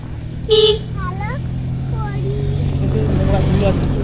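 A passing vehicle on a dusty road among flower fields gives a short, loud horn toot near the start, followed by rising engine and road noise, with voices talking nearby.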